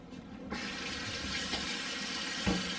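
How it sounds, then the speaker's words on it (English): Tap water running into a kitchen sink while hands are washed during muffin baking, a steady splashing hiss that starts abruptly and carries on with small surges. "I need to wash my hands."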